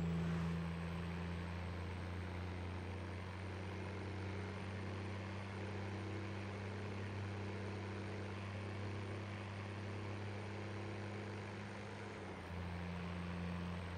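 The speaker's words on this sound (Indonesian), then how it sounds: "Mulai, mulai mobil." Car engine in GTA V running at a steady low idle drone throughout, continuous and fairly quiet, briefly dipping near the end, with no talk.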